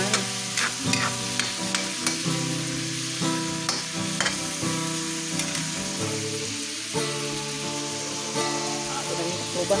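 Pakbet vegetables being stirred and fried in a pan, with a steady sizzle and scattered scraping stirs beneath a prominent tonal music bed.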